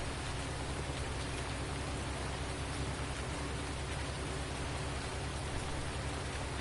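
Steady rain falls during field cultivation in a multiplayer farming game, a constant, even hiss of drops filling the scene without pause and with no voices.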